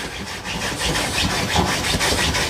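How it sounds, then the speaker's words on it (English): A French bulldog scratches and digs at a bed while nesting, a close, continuous rough rubbing and scraping with rhythmic strokes of fabric, and no talking. "She's like scratching on the bed, digging in, trying to get comfy."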